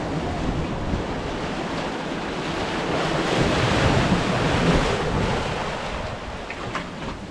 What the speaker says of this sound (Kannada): ನೀರು ಎಲ್ಲಿಗೆ ಬಂದ್ಬಿಟ್ಟು ಆ ಕಲ್ಲಿಗೆ ಹೊಡೆದ್ಬಿಟ್ಟು ಹೋಗುತ್ತೆ.